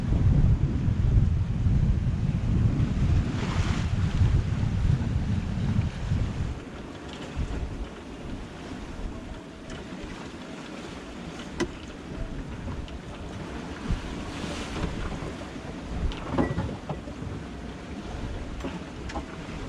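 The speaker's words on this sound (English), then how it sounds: "Motoring upwind." Sailboat motoring upwind on the Caribbean sea off Martinique: continuous wind rush and engine drone with splashing waves against the hull, steady throughout with occasional gusts and spray.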